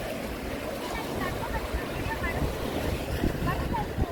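Steady surf and wind wash over Gokarna's main beach, a continuous broadband roar with low rumbling swells and gusty microphone buffeting throughout, with no distinct breaks.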